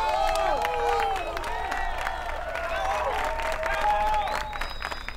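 A school crowd applauds and cheers for a student band taking a stage for the first time, with clapping under shrill whistles and excited voices from a packed, lively audience.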